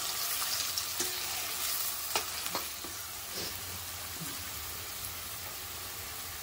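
Onion and tomato masala frying in hot oil, a steady close sizzle and crackle throughout with occasional stirring scrapes, no voices.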